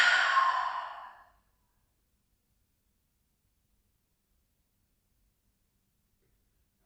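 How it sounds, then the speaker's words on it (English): A deep exhale through the mouth during a yin yoga session, a soft, breathy rush lasting just over a second, followed by near silence. "take a nice deep inhale through the nose. And exhale through the mouth"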